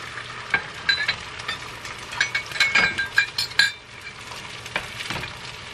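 Eggs cooking on a Blackstone griddle, a soft steady sizzle under bright metallic clinks and scraping of a utensil against the hot flat-top, the tapping coming in quick bursts before easing off.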